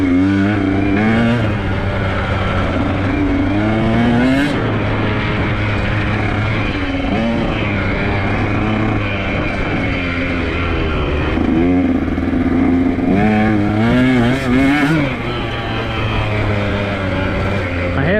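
A dirt bike engine revs and accelerates hard along a dirt trail, its loud buzzing note climbing and falling through the gears for the whole stretch, close to the rider and with no talk.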